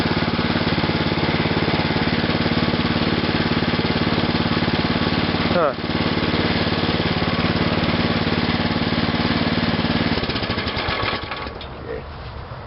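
A go-kart engine idles after a cold start with a loud, steady mechanical chug and rattle that runs unchanged for most of the stretch, then falters and fades near the end.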